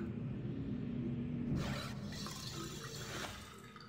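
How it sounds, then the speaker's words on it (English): Water pouring from a mechanism in the 1997 adventure game Riven, a steady splashing flow that swells around midway and carries on alone with no talk. "Oh, it like pours water or something."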